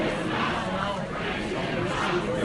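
Angry crowd gathered outside a town hall meeting in Utah or Tennessee, a dense continuous roar of many voices shouting and murmuring together at steady loudness, with no single speaker standing out.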